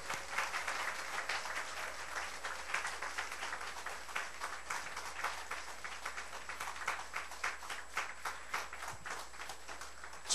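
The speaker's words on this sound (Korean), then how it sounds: "우리 하나님 앞에 진심으로 영광의 박수 한번 올려드렸으면 좋겠습니다" A church congregation at a twelfth-anniversary service applauds together, producing sustained dense clapping from many hands in a reverberant hall, steady and fairly even throughout.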